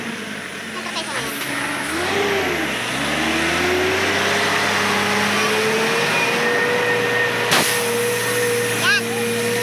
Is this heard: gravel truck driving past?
yes